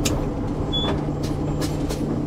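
Peterbilt 389 semi truck on the road with a steady low engine drone and hum, punctuated by several brief hissing air-brake bursts, no talking.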